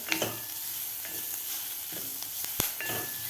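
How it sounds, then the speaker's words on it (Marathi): Paste of green chili, coconut and garlic sautéing over medium heat, a soft, close crackle broken by spoon clicks and scrapes against the pan. "हे वाटणसुद्धा आपल्याला व्यवस्थित परतून घ्यायचं आहे"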